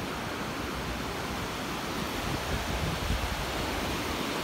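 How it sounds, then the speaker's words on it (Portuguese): Sea waves washing onto the beach at Praia Grande, a steady, loud wash of surf with no pauses, heard alone with no voices. "ouvindo esse som maravilhoso do mar"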